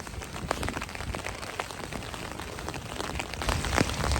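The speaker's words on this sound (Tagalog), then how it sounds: "So, ang lakas ng ulan." Heavy rain pours down continuously in the UK, a dense drumming patter of drops hitting surfaces nearby with no voices.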